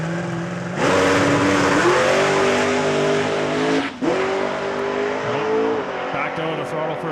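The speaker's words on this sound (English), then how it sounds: "This is a 1967 Ford Falcon." A 1967 Ford Falcon makes a drag racing run at Saskatchewan International Raceway, its engine screaming loud and near through rising gear pulls, with a brief dip as the throttle lifts before it pulls again.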